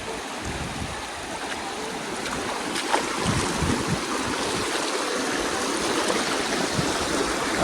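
River water flows steadily, a broad continuous rushing wash with a slight rise in intensity partway through, heard alone without voices.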